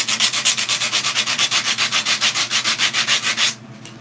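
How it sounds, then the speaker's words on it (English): Wooden letter rubbed hard against another piece of wood like sandpaper, a loud steady back-and-forth scraping in quick even strokes for several seconds before stopping abruptly. "It's almost like using sandpaper, except it's using itself."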